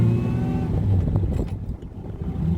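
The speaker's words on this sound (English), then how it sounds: "So being a 8-cylinder, fairly big engine, you can feel the power is very smooth out of it." A 1935 Hudson eight-cylinder car with a fairly big engine runs smoothly, its steady low rumble and hum continuous and close throughout, with a brief rise in intensity midway.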